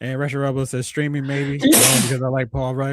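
Someone talks, then a single sharp, breathy sneeze bursts out in the middle before the talking resumes.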